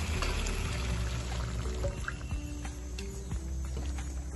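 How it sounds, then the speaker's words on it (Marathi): Water from boiling drumsticks poured into a spicy drumstick curry, a steady close liquid pour with a few splashes and drips, no talking. "आपण जे शेंगा शिजवून घेतलेलं होतं तेच पाणी आपण इथे भाजीमध्ये टाकणार आहोत."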